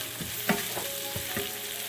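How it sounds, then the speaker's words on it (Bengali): Onion frying in a pan with chicken stock cubes for couscous, a steady sizzle broken by a few soft scraping stirs of a spatula, close and continuous, no talking. "পেঁয়াজটাকে একটু নেড়ে নিচ্ছি।"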